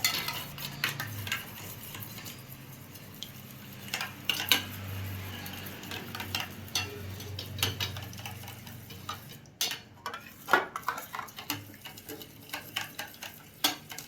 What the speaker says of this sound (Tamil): நல்லா கலக்குன்னு கலக்கி விட்டுருங்க.